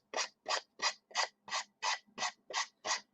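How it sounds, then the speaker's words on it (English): Nine steady, even rasping strokes of sandpaper scraping the edge of a wooden pumpkin, close and quiet, in a regular back-and-forth rhythm. "And as you're sanding, just sand down."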